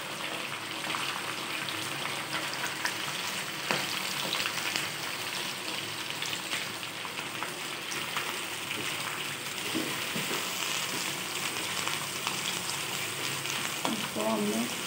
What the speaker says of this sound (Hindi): ऑयल गर्म हो गया, इसमें हमने चिकन डाल दिया। चिकन डाल के हमने इसको अच्छी तरह से फ्राई करना है।